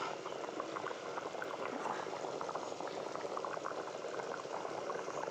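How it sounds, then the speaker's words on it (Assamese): Fish curry with taro coming to a boil in a pot, a dense continuous bubbling simmer heard close and fairly loud, steady throughout with no voices. "এতিয়া অলপমান উতল আহিলে হৈ যাব"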